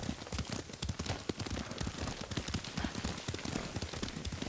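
A horse's hooves clip-clop in a quick, steady gallop rhythm as it is ridden in Ghost of Tsushima, with moderately loud, regularly spaced thuds running throughout.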